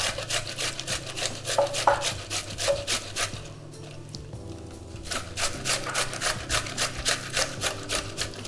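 Tomatoes being grated by hand for a butter chicken sauce, a close, rhythmic series of quick rasping strokes that slows briefly midway and then resumes at a steady pace.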